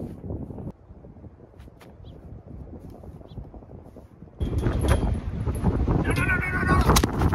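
Gusty wind rushing across an open disc golf course, a steady low roar that swells sharply louder partway through and keeps buffeting the microphone.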